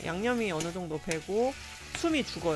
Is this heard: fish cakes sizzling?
yes